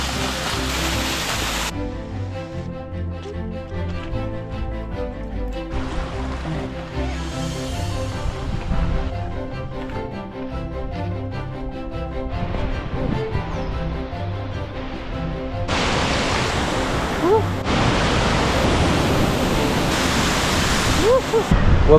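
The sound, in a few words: Wapama Falls waterfall in Yosemite in spring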